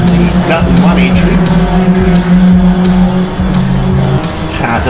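A race car with a rough-sounding engine circulates at Circuit Excel during a memorial trophy race, engine note loud and continuous with tyre noise, under a commentator's voice.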